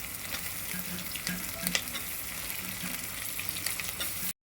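Masala fries in a pan as tomatoes are added for a goat head curry, a close, continuous sizzle with scattered crackles and stirring scrapes, ending abruptly in silence.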